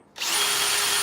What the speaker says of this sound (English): Drill that out a little bit so I can get that daggone plastic eye in there